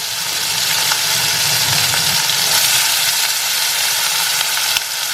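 Chopped onion fries in hot oil for a Bengali tyangra fish curry, giving a loud, steady, dense sizzle that hisses on without a break.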